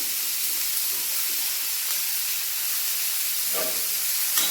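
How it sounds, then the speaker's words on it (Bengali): Chopped onions frying in hot mustard oil in a kadai, a loud, steady hiss and sizzle that persists throughout, with a couple of brief utensil clinks and no talking. "হালকা করে আবারও সরষের তেল ওই তেলে দিয়ে দেবো পেঁয়াজগুলো"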